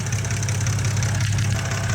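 A BMW E90 idling steadily with a low, even engine rumble and faint ticking texture while lifter additive is poured in, loud and continuous with no talking.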